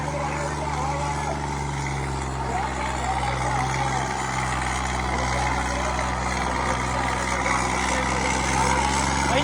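A Swaraj 855 tractor engine drones loud and steady close by, its low rumble gradually building, with people talking over the running engine throughout.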